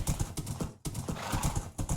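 A Minecraft horse's hooves clip-clopping in a quick, steady rhythm of soft close thuds, with a short pause partway through, fairly quiet and with no talk over it.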